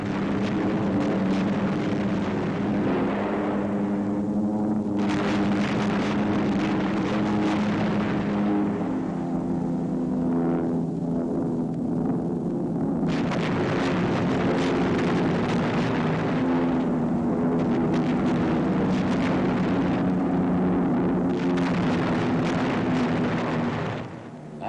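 RAF Bomber Command aircraft attack Wesel in March 1945, heard as a loud, continuous deep droning roar of engines with a rising and falling hum, thick and unbroken throughout, in old newsreel sound.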